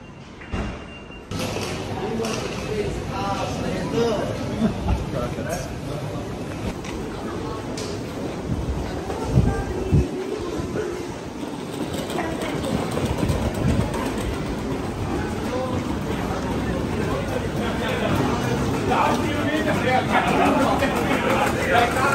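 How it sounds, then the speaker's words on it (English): Busy Mannheim train station ambience: rumbling trains and rolling wheels, a hissing high tone, and people talking in the background throughout. "that's the train station in Mannheim."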